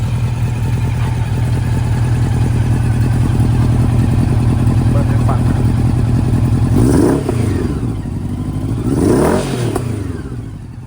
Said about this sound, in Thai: เครื่องเงียบๆ นะครับ